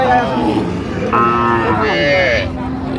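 Cows with calves moo loudly at a crowded cattle market in Raniganj, one long lowing call followed by another higher one, over a constant background murmur.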